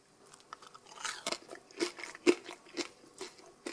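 Close, crisp crunches of homemade avocado chips being chewed, a quick irregular series of sharp bites and munching with no talk.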